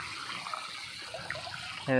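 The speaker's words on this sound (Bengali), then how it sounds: "বাড়ির ভেতরে জল চলে গেছে।" Floodwater flowing into a house in a low, steady watery rush, with a brief louder burst of sound at the very end.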